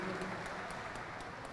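Brief steady applause from an audience at a formal nursing council graduation and swearing-in ceremony, a dense wash of clapping heard throughout.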